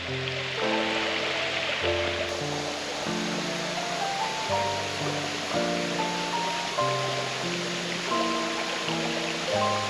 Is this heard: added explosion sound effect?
no